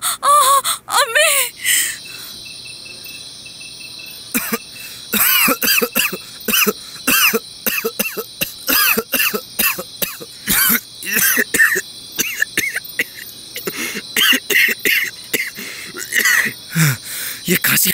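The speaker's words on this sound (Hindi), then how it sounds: "ये खांसी खत्म ही नहीं हो रही" A woman coughs persistently in a dramatized home scene, with harsh, repeated hacking fits, gasping breaths and throat clearing across eighteen seconds, loud and close, broken by brief pauses and strained moaning.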